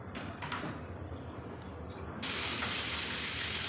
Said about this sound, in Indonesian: aku masih dalam proses goreng ikannya